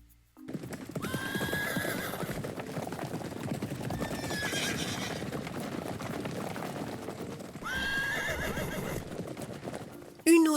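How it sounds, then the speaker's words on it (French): A horse whinnies loudly twice, long and wavering, over a steady, brisk clip-clop of hooves that runs throughout, close and prominent. "A horse, un cheval."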